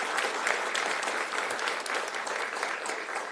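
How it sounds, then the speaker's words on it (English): A gathered audience applauds in a dense, even patter of many hands clapping together, sustained for over three seconds without a break. "give her a round of applause"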